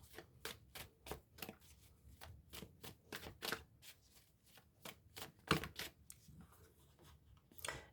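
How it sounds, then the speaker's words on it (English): Tarot cards shuffled by hand during a reading, a quiet close series of crisp riffling and slapping bursts in an uneven rhythm, with no talking. "You're getting a lot of cards out"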